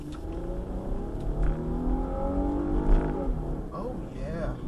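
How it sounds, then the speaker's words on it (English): An Infiniti FX35 engine hums and builds as the vehicle pulls away, a steady low rumble with a voice talking over it. "the way that the sound is of the engine, I'm going to let you hear that real quick"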